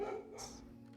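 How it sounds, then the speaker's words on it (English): A single brief, breathy dog bark or yelp rises over low game music and ambience in the puzzle video game Blue Prince. "Thank you, dogs."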